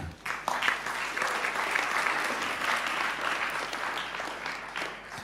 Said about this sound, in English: And that's a round of applause again.